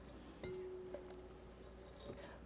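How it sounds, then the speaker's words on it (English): Orange and pineapple juice ice cubes drop into a punch bowl, giving a few faint, scattered clinks and knocks against glass over quiet room background. "Once you've got your punch in the bowl, you're going to add these ice cubes."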